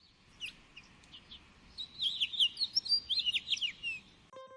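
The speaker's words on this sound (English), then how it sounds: "Finch sounds like chirp chirp." A finch chirps in a quick, excited run of high, bright notes that swell in the middle, with sparse, softer calls before, heard alone and close over faint background.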